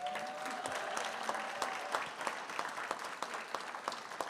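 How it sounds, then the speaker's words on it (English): A live audience at a 50th anniversary celebration gives a sustained round of applause, with steady dense clapping that holds loud throughout, a few sharper individual claps standing out from the crowd. "Give her a big round of applause."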